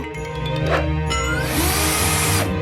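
A power drill whirs loudly and continuously with a steady motor hum, its pitch rising and falling slightly as it works, with no voices.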